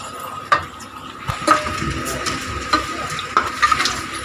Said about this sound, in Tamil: இப்போ வந்து இதை நல்லா மிக்ஸ் பண்ணி விட்டுடலாம்.